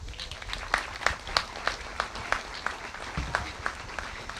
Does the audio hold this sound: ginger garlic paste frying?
no